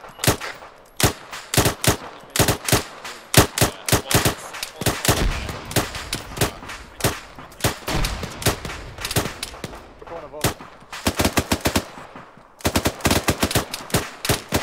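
Heavy automatic gunfire in the military video game Arma III crackles in dense rapid bursts, loud and close, with short pauses between volleys and occasional voices among the shots.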